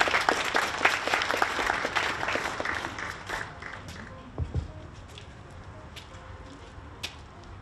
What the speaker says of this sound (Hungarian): Tapsoljuk meg őt, köszönöm szépen!